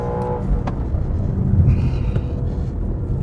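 Car engine on a race track during a lap comparing a Mercedes-AMG C 63 Estate and an Audi RS4, starting with a big oversteer slide; a steady, loud engine rumble runs throughout with a brief surge midway.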